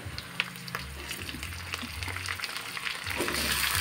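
Catfish pieces go into a sizzling sautéed spice paste, a steady close frying hiss with scattered crackles that grows louder toward the end, no talking.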